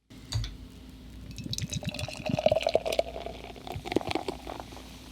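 A can of Kolsch beer is opened and poured into a glass, a soft liquid gurgle and fizzing splash running steadily for several seconds, close by, with no talk.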